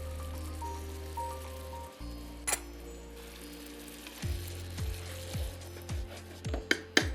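Chopped green chillies drop into hot oil in a pan, setting off a close, crackling sizzle with sharp spits and pops that sharpen toward the end, alone without any voices.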